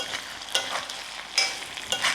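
Chicken pieces fry in oil over a medium flame for a chicken pickle, a soft steady sizzle with a few sharp stirring scrapes and clinks, close and fairly quiet, no talking.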